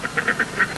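Ducks eat a homemade cake that did not rise, giving a run of four or five close, loud, nasal quacks in quick rhythm.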